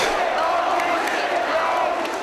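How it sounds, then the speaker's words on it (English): Wrestling fans in a packed arena at an independent FWA show roar and cheer in a steady, dense wall of crowd noise that holds throughout without a break. "Listen to the crowd. Listen to the fans."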